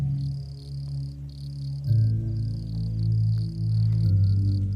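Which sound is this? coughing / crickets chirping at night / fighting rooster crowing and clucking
crickets chirping at night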